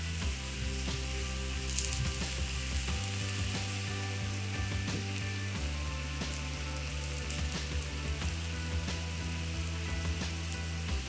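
Cheesesteak meat topped with provolone cheese sizzles on a hot Evo griddle, a loud, continuous, close frying hiss with faint mechanical clicks and no voices.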